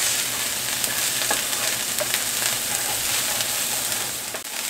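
Chorizo with a spoonful of ginger paste sautéing in a pan, a steady close sizzle with light stirring clicks running throughout, no voices.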